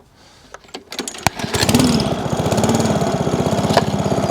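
An old lawn mower with its governor spring removed sputters through a few pulls, then fires and settles into a loud, fast, steady putter up close.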